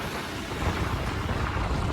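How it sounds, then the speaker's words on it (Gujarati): Heavy rain pours steadily, with a low thunder rumble mixed into a dense, broadband wash that stays constant and fairly close throughout, nobody speaking. "વરસાદ આવી ગયો ત્યાં તો ભાઈ"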